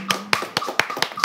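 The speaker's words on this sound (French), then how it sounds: "Applaudissez pour moi." A few people clap their hands near the microphone in a kitchen, about seven sharp, uneven claps in just over a second, with no talk over them.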